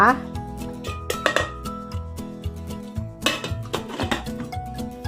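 A metal lid set down onto a steamer pot holding mung beans sprouting under a cloth, giving a couple of clanking metallic knocks and rattles amid kitchen handling noise.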